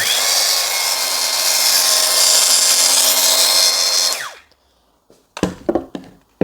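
A Kuang Tian 16.8V cordless angle grinder for 76 mm discs runs with a steady, smooth, fairly quiet whine for about four seconds, then spins down and stops, followed by a few brief handling clicks and knocks.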